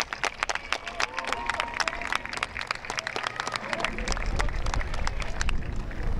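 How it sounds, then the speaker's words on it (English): A large audience at Woodbridge Middle School's 2023 promotion ceremony gives a round of applause for families and staff, dense continuous clapping that swells and grows fuller toward the end, with faint crowd murmur. "please give them a round of applause"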